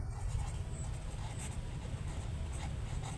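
A number is written by hand, soft scratchy pen or pencil strokes on paper in a few short bursts over a low background rumble.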